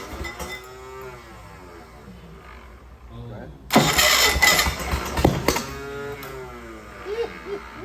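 A 1941 Graymarine Model 4-75 inboard engine, long unused, cranks on its starter under people talking, then bursts into a loud, rough, uneven run with sputtering pulses.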